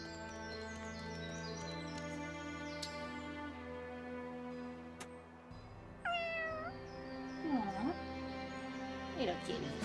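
A cat meows in the video game Fire Emblem Engage, a few short clear mews over steady game music, with a voice talking during part of it.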